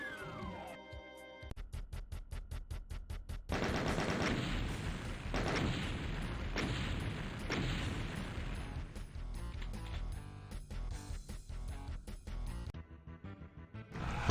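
Shotgun blasts and gunfire in The Ultimate Doom, a run of loud repeated booming shots over a droning game background, with gaps between volleys.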